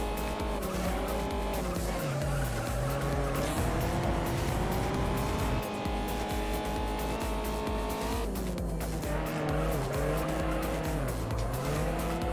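Toyota Celica racing in the video game Juiced, engine revving steadily through rising and falling gear changes with tire squeal and skidding mixed in, loud and continuous throughout.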